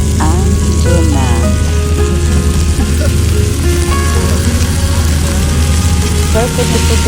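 Tuna tipped into tomato and garlic frying in a pan for tuna spaghetti: a dense, loud sizzle and crackle runs steadily throughout, with faint clinks and squeaky scraping over it.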